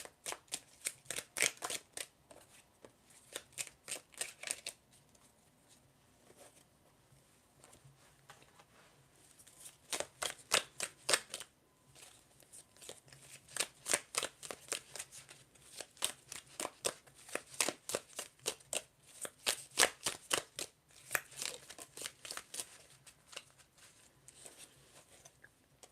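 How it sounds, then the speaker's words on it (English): A deck of oracle cards is shuffled in repeated riffling bursts of rapid crisp flicks, close and fairly soft, with short pauses between runs and no talking. "I'm going to shuffle some oracle cards next."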